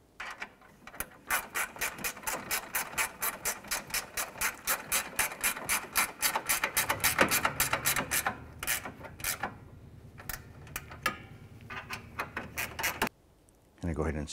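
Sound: ratchet tightening bolts on Toyota Camry A/C condenser

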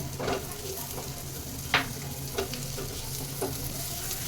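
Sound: garlic, ginger, onion and green chillies frying

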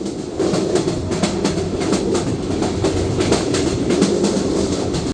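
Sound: passenger train running along the tracks

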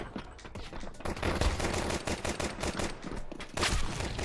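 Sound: gunfire in video game Counter-Strike 2

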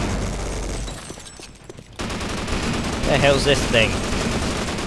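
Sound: minigun firing in the video game Half-Life Sven Co-op

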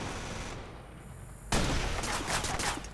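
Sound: sniper and small arms gunfire in Watch Dogs video game

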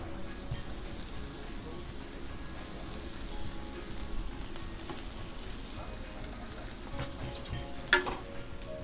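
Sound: onions and peppers frying in butter on grill

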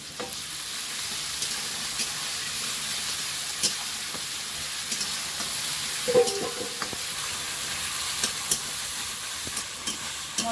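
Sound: frying with ginger-garlic paste for chicken biryani

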